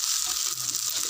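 Nasi goreng fries in a hot pan with a steady, broad hiss, close and fairly quiet, with no talk.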